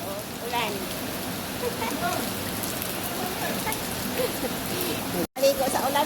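Steady downpour of rain falling outdoors, a dense hiss of drops hitting surfaces that runs continuously with a brief dropout near the end, and children's voices talking and playing underneath.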